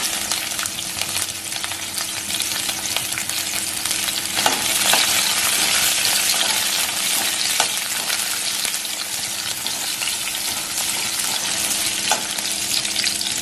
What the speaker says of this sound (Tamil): இதெல்லாம் நல்லா வெங்காயம் நல்லா வதங்கிருச்சு.